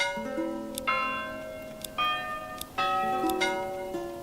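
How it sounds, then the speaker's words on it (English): Church bells toll in the Manor Lords medieval village game with several bright, ringing strikes at uneven intervals, each leaving a sustained metallic hum that overlaps the next, clear against a quiet background. "Church bell sound."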